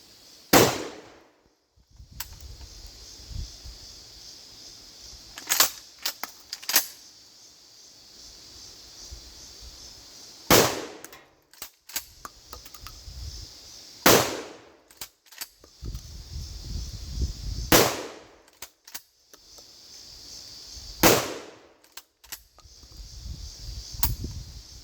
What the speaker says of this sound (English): I'm gonna shoot a bucket down there.